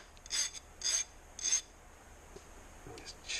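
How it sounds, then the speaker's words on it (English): A hand file rasps across the gapped end of a piston ring to deburr it, three short, evenly spaced scraping strokes followed by lighter touches, close and crisp in a quiet shop. "I just take the file, run it over like this at a slight angle."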